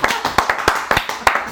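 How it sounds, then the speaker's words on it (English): A small round of applause at home: a few people clap in quick, uneven bursts, close and loud, for a second or two. "give a little round of applause"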